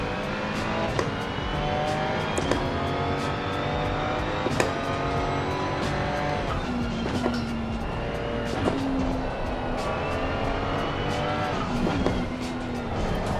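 A race car engine in Assetto Corsa Competizione drones loudly and continuously with rising and falling revs, sharp gear-change blips and brief tire squeals, heard from close on board.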